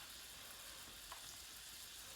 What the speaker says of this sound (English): You will hear the sizzle because the pan is hot.